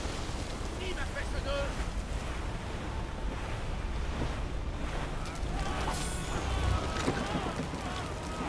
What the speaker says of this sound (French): Ce vent ne me dit rien qui va.